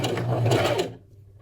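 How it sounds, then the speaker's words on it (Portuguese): A sewing machine stitches a cuff onto the sleeve of a women's V-neck dress shirt, a loud close mechanical whir that runs for most of a second and then stops abruptly. "já na máquina, com o punho devidamente posicionado, vou costurar punho na manga"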